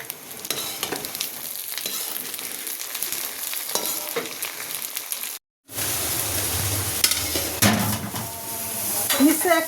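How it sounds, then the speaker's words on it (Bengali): Garlic and dried chillies frying in half a kilo of mustard oil for khichuri, a dense, continuous sizzle with spoon scrapes and pan clatter and a brief gap midway. "হাফ কেজি সরিষার তেলে এখানে রসুনটা আমি লাল করে নিচ্ছি"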